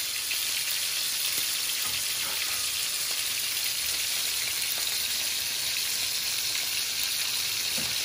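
Thai sauce sizzling steadily in a pan, a continuous close hiss and crackle with small scattered pops, alone and without any voices.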